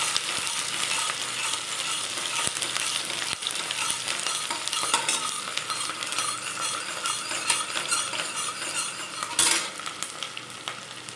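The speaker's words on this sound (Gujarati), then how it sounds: "લસણ ડુંગળી નાખી દઈશું સારી રીતે હવે આપણે હલાવી લઈશું તેને" Garlic, onion and cloves sizzle steadily in hot oil as they are stirred around a pan for toor dal khichdi, a continuous close frying hiss with scraping stirs throughout and no talk.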